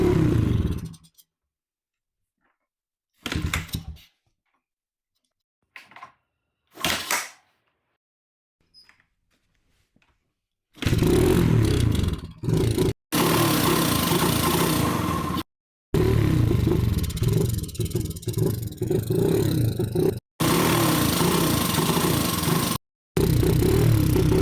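A Honda XR80R dirt bike engine sputters through a few brief false starts, then catches and runs loud and close on carburetor cleaner, roaring steadily with several abrupt cutouts and restarts.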